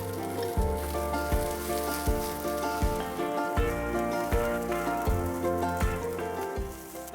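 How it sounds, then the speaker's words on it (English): Shimeji mushrooms sauté in a hot pan with a steady, close sizzle, punctuated by regular scraping and tossing strokes from stirring roughly every half second to second. "Saute for about a minute."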